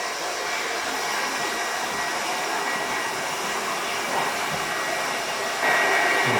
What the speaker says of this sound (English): I think this is best finished off with the finger drying more than a brush.